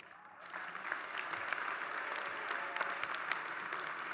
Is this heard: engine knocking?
no